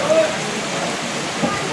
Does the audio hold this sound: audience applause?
no